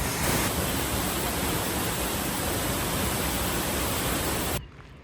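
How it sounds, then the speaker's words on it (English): A waterfall in the Italian Alps roars loud and close in a steady, dense rush of falling water, then cuts off abruptly just before the end. "Another waterfall."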